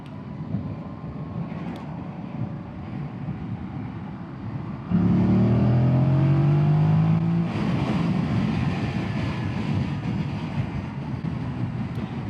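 A 2025 Yamaha MT-07 motorcycle engine rises in pitch as the rider accelerates, heard from the saddle under constant wind rush, with the engine growing louder midway and no talking.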